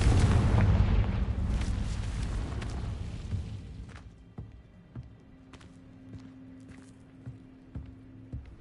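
Confringo fire spell exploding in the video game Hogwarts Legacy: a loud, deep, rumbling blast at the start that decays over about three seconds, followed by quieter scattered thuds and a faint steady hum.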